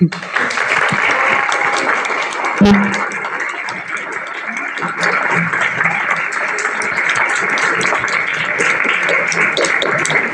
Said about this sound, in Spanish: Muchas gracias por ese cálido aplauso para la maestra Gabriel